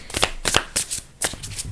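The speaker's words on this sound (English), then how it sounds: "All right, let's keep shuffling." Tarot cards being shuffled by hand in quick riffling bursts, about five crisp rapid flutters separated by brief pauses, close and clear with no talk.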